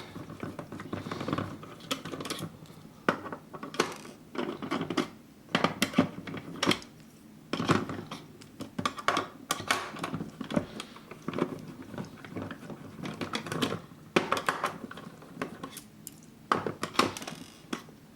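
Screws are worked loose from a Firecow M249 SAW gel blaster, giving irregular metallic clicks, taps and small plastic knocks up close, with bursts of handling clatter and short quiet gaps, no talking.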